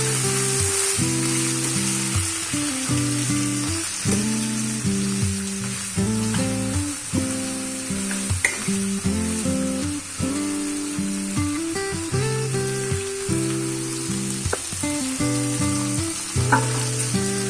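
Cauliflower frying loudly in a pan with tomato added, a strong continuous sizzle and hiss close up, with intermittent stirring scrapes and clatter throughout.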